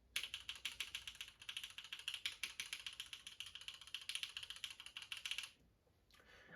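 Clacky mechanical keyboard switches, TTC Gold Pink, are typed in a fast, even run of bright, close clicks for about five seconds, then stop, leaving near silence.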